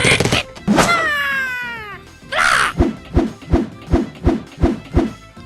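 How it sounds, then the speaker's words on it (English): Hal the bird in the Angry Birds remake video game, using the wrong voice: a yelp, a long falling meow-like wail, then a breathy cry, followed by seven rhythmic bouncing thuds, loud and without talk. "And while we're talking about Hal, he uses the wrong voice"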